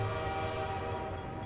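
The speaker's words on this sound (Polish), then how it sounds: "A gdzie jest pociąg? O, jedzie." A train passing in the video game Half-Life 2: a continuous loud rumble with steady tonal horn-like hum and no pauses.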